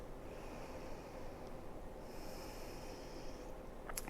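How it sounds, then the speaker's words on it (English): Slow, steady exhales through the nose during a seated chair yoga session, soft and close with a faint airy hiss that fades in and out, heard alone. "Finding some expansive inhales and long exhales"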